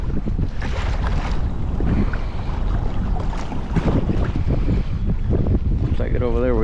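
A kayak cruises at about 2.5 mph in strong wind, with continuous buffeting wind noise and water wash around the hull.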